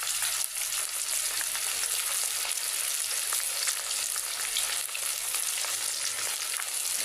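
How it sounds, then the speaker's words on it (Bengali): Fish fries in a pan with a constant, dense crackling sizzle of hot oil that holds at an even, fairly loud level for the whole stretch, with no voices over it. "মাছ রান্না করতে গেলেই ভেজে রাখি ভাজা রাখবো"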